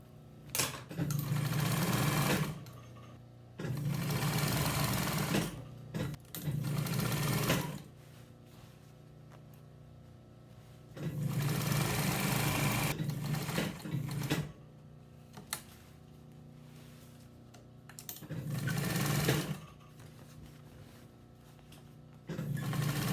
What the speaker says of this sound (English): let's go ahead and sew those pieces together